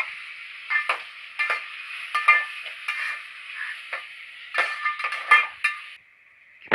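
Ground tomato paste sautéing with onions in a pan for veg biryani, heard as loud bursts of stirring and scraping over a bright sizzle in uneven strokes, close up, ending in a brief steady hiss.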